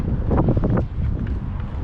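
Loud, gusty wind buffets the microphone high in a fir tree, with a rough, rumbling roar that dips briefly before surging again.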